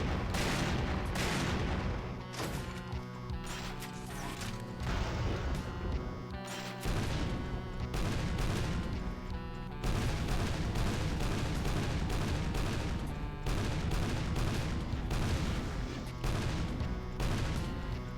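Doom's small projectiles burst in rapid, dense volleys of booms and crashes over constant loud game audio, with repeated explosive hits and brief lulls, no voice over it.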